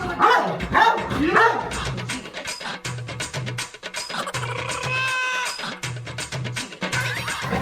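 A dog barks repeatedly in short, sharp bursts at close range through a busy scene, with clucking chickens and other background sounds mixed in.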